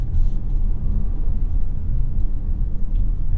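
Steady low rumble of a 2021 Mazda CX-5 with a 2.5-liter turbo engine and AWD on the road, a constant close engine and road drone with no talk.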